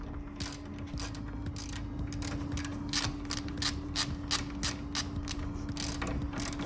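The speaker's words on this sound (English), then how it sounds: "Get a socket on there." Ratchet wrench with a socket tightening a replacement rear wheel stud on a 2012 Kia Rio, giving repeated crisp clicking strokes in an uneven rhythm over a steady low hum, close and moderately loud.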